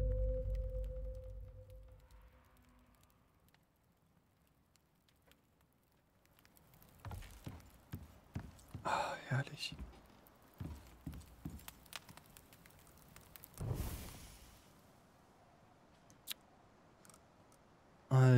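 Hollow hoof clip-clops of a horse in the video game Icarus come in uneven bursts, mid-distance, with a quiet stretch at the start and a brief louder rush near the end.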